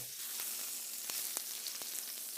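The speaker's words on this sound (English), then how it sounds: "Let's sear the side more." Duck breast searing in a hot pan, a steady bright sizzle with scattered small pops and crackles, close and fairly quiet, with no talking.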